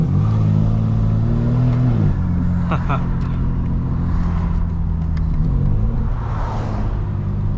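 A car engine hums steadily nearby, its pitch shifting slightly as the vehicle draws closer, with a voice talking over the continuous road rumble.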